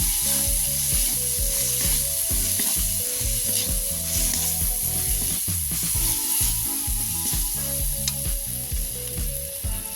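Ground coriander, chili and turmeric powder frying in a pan for ghugni: a loud, steady sizzle runs throughout, with repeated rhythmic scraping of a spatula stirring the spices, no voices.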